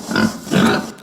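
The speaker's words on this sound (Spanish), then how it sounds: "¡Ya sé, un cerdo!" A pig gives two quick, close oinking grunts, each a short nasal snort, loud and alone.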